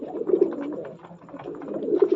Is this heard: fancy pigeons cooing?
yes